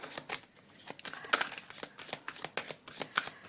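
Tarot cards are shuffled close up in a quiet room, a series of soft riffling and flicking bursts in an irregular rhythm, with a couple of light crisp snaps.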